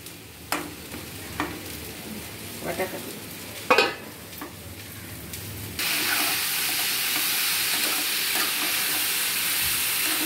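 Vegetables with whole green chillies stirred and frying in a wok, scraping stirs over a sizzle that swells into a loud steady hiss.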